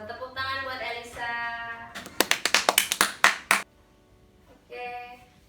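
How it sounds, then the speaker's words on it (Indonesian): A classroom of students applauds a classmate, Elisa, in a short burst of about a dozen sharp, close claps lasting under two seconds, framed before and after by a teacher's voice. "Tepuk tangan buat Elisa."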